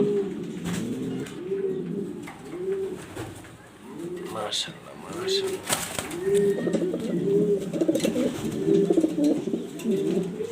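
A female pigeon coos in close, repeated low rolling phrases throughout, while someone speaks briefly over the calls.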